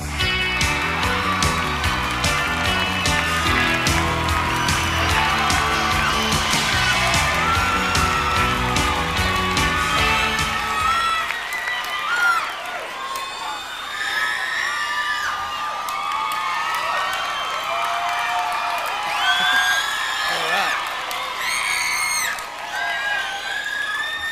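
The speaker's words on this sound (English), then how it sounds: "Thank God there's still screaming girls." Concert audience of screaming girls cheering at a televised 1992 awards show, a loud dense wall of shrieks and whoops with music under it for the first half, then crowd cheering continuing alone.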